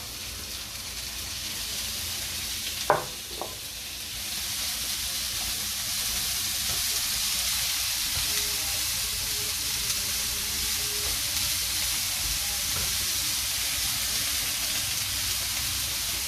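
Bell peppers and tomato sautéing in a pan for a crab coxinha filling, giving a steady, even sizzle that runs throughout after a couple of brief utensil knocks near the start, with no talk.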